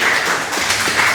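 A congregation claps steadily in praise during a Portuguese-language church mission service, a brief, dense patter of many hands close by.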